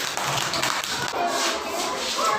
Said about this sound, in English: make a big clap